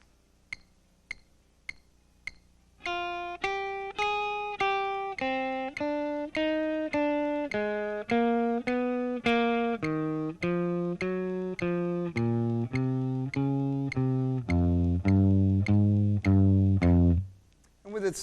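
A metronome set to 100 beats per minute gives four crisp, evenly spaced clicks on their own. Then a guitar scale of sustained plucked notes enters at the same steady tempo and continues over the clicks.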